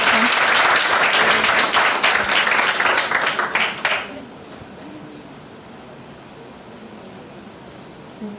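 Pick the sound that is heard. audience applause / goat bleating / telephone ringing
audience applause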